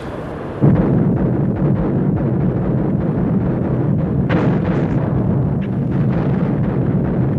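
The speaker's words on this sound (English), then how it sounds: "Russian artillery on the Oder front began to pound German positions around the bridgeheads." Russian artillery bombarding German positions on the Oder front in the Battle of Berlin: a dense, continuous roar of distant barrage with a sudden loud onset and scattered sharper blasts inside the rumble.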